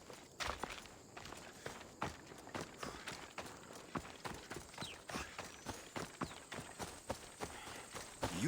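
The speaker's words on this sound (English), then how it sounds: "Looks like a sturdy horse." Horse hooves clip-clop at a steady trotting rhythm on a hard path in the video game Assassin's Creed Odyssey, close and fairly loud, with many evenly spaced strikes throughout.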